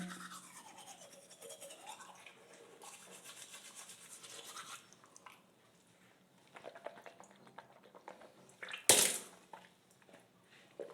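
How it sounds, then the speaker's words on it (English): Teeth being brushed with baking soda, a soft steady scrubbing and rubbing at low level, fading near the middle and ending with a brief louder knock or clatter close by. "after you brush your teeth"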